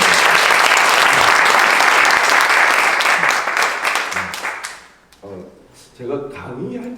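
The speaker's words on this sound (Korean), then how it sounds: "우리 권사님께 감사의 박수 한번." A church audience at a mission school lecture claps in loud, sustained applause that fades after about five seconds, followed by someone speaking.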